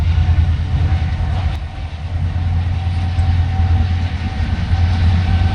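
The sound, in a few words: intercity express train passing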